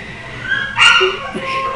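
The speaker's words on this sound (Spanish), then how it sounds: "¿qué están haciendo los perritos?" Small dogs indoors give a short yip and whimpering cries, close and fairly loud, with a couple of brief squeaky whines following.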